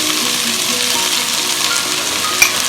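Tomatoes sautéing in a pan for Kerala egg theeyal give off a steady, close sizzle and frying crackle, with one sharp clink of a utensil near the end and no talking.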